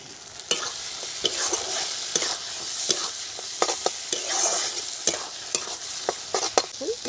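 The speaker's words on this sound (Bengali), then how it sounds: "মশলাটা খুব সুন্দর ভাজা করে নিয়েছি" Ground spice paste and tomato frying in a pan for a duck egg curry, a steady close sizzle with repeated scraping clicks of a spatula stirring at irregular intervals, no voices.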